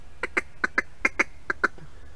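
A hand-operated duck call imitates a single mallard feeding, giving soft paired clucks in an even ticking rhythm, close and alone.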